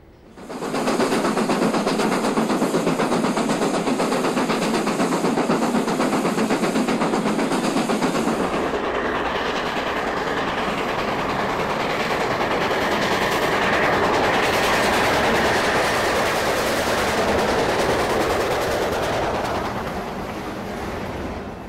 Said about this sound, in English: On arrival at Easttown, the locos ran around their train and headed down the branch into Whanganui.